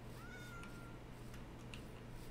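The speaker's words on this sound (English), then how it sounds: "Oh, a little cat." Cat meowing in Minecraft 1.17, a few short high game meows over a steady low hum of background ambience, fairly faint and with no talking.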